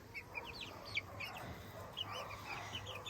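Chickens in a small homestead pen cluck and chirp softly in quick, scattered bursts, close but faint, over a low background hum.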